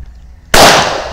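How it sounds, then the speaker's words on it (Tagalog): A single sharp, loud report from a Glock 22 pistol fired at an army rangers camp, bursting out of near silence and ringing off with a short decay. "shooting Glock"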